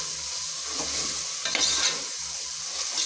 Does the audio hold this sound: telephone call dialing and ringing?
no